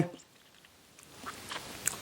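Close, quiet mouth sounds of chewing Fritt acerola and mango chewy candy from Poland, soft sticky squelches and small clicks that grow busier toward the end.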